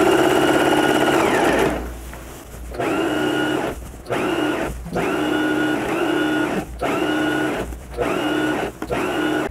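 A sewing machine stitches a blouse with elasticated shirring in rapid buzzing runs of about a second each, separated by short pauses, fairly close and clear with no talk.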